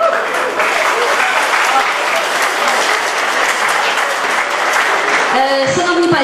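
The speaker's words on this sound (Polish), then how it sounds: "serdeczne brawa na sam początek dla orkiestry" A crowd claps steadily and loudly for a youth brass band at a regional orchestra festival, dense continuous applause filling the whole stretch, with a brief tonal sound near the end.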